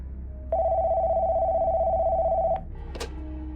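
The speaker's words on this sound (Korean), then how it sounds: "전화벨이 울렸다." A telephone rings once with a steady, loud electronic tone lasting about two seconds, then stops; a brief click and a short handling sound follow, with no talk.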